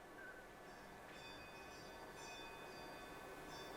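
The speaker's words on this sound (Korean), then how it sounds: "저런 풍경 소리 한번 탁 울리는 거" A temple wind bell (punggyeong) rings faintly several times in the distance, with thin high metallic tones above a steady, noisy outdoor background.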